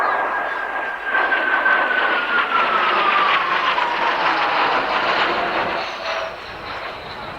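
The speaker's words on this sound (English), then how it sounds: "Aircraft coming in for a simulated attack on a ground target." An aircraft flies in for a simulated attack on a ground target, a loud, sustained engine roar with a descending whine that builds and fades slightly, heard from the ground at an air display.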